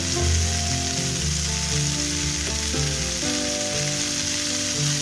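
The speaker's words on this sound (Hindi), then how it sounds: "हम इसमें मक्खन ऐड करेंगे। बिल्कुल लो फ्लेम पर। जैसे ही ये मेल्ट होगा" Butter melting over a low flame in a pan, a steady close sizzle throughout, with a music bed running under it and no talking.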